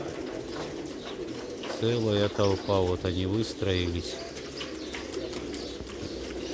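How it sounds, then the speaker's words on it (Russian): Double-crested pigeons coo in a low, throaty burst for a couple of seconds while a person talks nearby over faint outdoor ambience. "Голуби."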